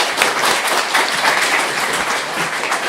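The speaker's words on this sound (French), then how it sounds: "j'aimerais qu'on donne une dernière main d'applaudissement" An audience at an event honoring employers gives a final round of applause, a sustained, even patter of many hands clapping together throughout.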